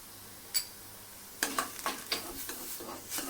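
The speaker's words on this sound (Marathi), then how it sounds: "दोन छोटे चमचे मिक्स मसाला घालायचा आहे मिक्स करायचे" A spoon stirs spice mix into food in a pan, a single scrape followed by a run of rhythmic scraping and clinking strokes against the metal over a quiet background.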